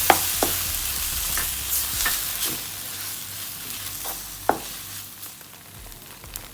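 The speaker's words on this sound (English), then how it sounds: "so you have to add the sweet corn paste. Again mix it around 5 seconds." Chicken sweet corn soup with sweet corn paste being stirred in a hot pan, giving a continuous sizzle with spoon scrapes and taps recurring every second or so, close and fairly loud, no voices.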